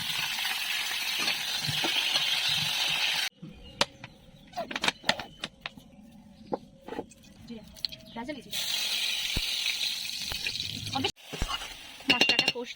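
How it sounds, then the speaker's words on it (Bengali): Spice paste fries in oil in a hot kadai while being stirred: bursts of close sizzling at the start and end, with a quieter middle stretch of spoon clinks and scraping under a person talking. "মশলাটা কষছে"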